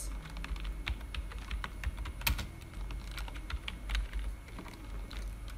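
Rapid, irregular clicking of computer keyboard keys at a steady pace, close and fairly quiet, with one sharper key strike midway as text is typed in Photoshop.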